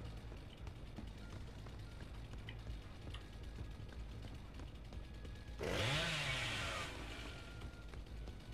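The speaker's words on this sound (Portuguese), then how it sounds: "esse barulho da Serra do Bubba é chato, hein?" Bubba's chainsaw revving in the video game Dead by Daylight: a steady low game rumble, then a sudden loud burst of buzzing chainsaw noise lasting about a second before dropping back.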